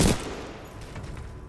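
Automatic gunfire in the Titanfall 2 video game, a sharp opening blast followed by a rapid rattling burst of shots that trails off over about a second and a half.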